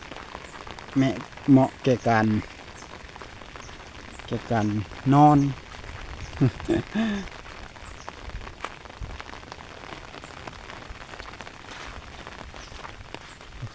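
Rain falls steadily across rice fields with young rice plants, a constant soft hiss of drops; a person speaks in short bursts over it early on, then the rain continues alone.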